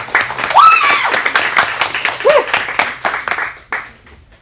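Audience at a teen acting showcase claps together in a brief burst of applause, fairly close and loud, with a few voices calling out over it before it fades.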